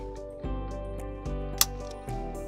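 A single sharp plastic click as an infant car seat base's LATCH connector snaps into place, over a steady background of sustained musical tones.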